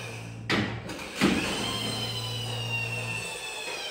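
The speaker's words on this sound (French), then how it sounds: "c'est bien plus sympa de faire rouler la voiture sur la vitre." A toy car rolls steadily across glass, giving off a continuous whirring hum, with two brief bumps near the start.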